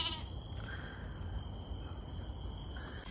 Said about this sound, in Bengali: এইগুলো সব মহিলা ছাগল, বাচ্চা দেয়